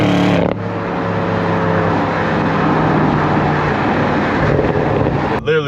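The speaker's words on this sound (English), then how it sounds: "It sounds like a race car" Loud, steady engine roar from a 2022 BMW M550i V8, a deep droning rumble with low harmonic bands held for about five seconds, mixed with wind and road noise, ending in a sharp transient.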